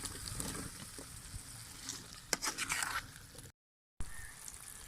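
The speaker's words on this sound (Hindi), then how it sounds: "व्यूअर्स आलूओं को हमने अच्छे तरीके से भून लिया" Potatoes frying in a spiced masala, a faint crackling sizzle with some wet stirring sounds, close but quiet, broken by a short silent gap near the end.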